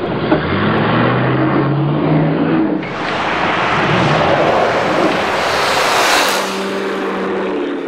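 A car engine roars steadily at high revs, the pitch shifting as it accelerates, with loud broadband road and wind noise throughout.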